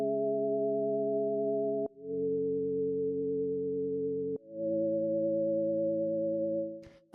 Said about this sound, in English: So the first thing we have here are the chords, which sound like this.